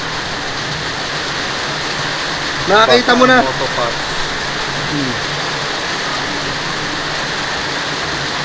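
Heavy rain pours down in a steady, loud hiss that never lets up, and a man briefly calls out over it partway through.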